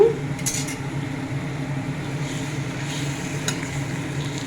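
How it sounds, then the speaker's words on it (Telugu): Tomatoes with salt and turmeric being stirred in a pan to soften for amaranth leaf chutney: a steady low sizzle with a few scraping, clinking strokes of the spoon, close by and without talk. "టమాటాలు తొందరగా మగ్గడం కోసం పావు స్పూన్ సాల్ట్, కొంచెం పసుపు వేసుకొని కలుపుకుందాము"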